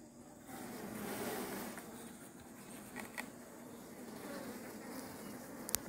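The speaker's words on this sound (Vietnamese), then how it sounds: "Đàn ong vẫn trào quân và đẹp đây." A honeybee colony in an apiary hums with a steady, dense buzzing of many bees close by, continuous throughout with a few louder passes near the end.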